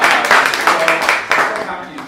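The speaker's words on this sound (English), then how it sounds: "So another round of applause." An audience claps in a short burst at an arts school talk event, and a voice carries over the clapping.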